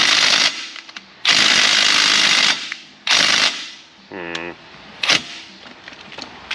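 Loud bursts of a power tool hammering at rusted, stuck hub bearing bolts on a Jeep Wrangler YJ, three long runs with short gaps, with a brief rattling clatter and short metallic knocks afterward.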